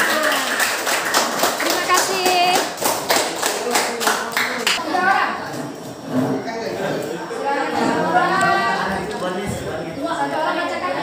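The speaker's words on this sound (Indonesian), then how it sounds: "beri tepuk tangan untuk kelompoknya" A group of children claps and cheers for several seconds, with chatter and a spoken thank-you rising as the applause fades.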